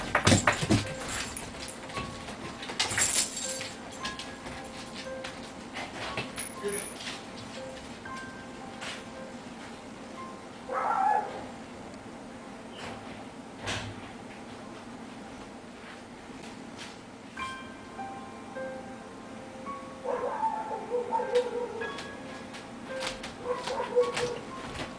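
Two dogs whimper softly and shuffle around indoors at night. Faint whines and scattered movement noises come through a quiet, hissy room, with an occasional knock like a door.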